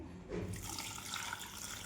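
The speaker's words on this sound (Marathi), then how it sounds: "आपल्याला 2-3 पाण्याने छान धुवून घ्यायचं आहे" Chopped jackfruit being rinsed in a tub of water, with steady splashing and running water over about two seconds, close and moderately loud.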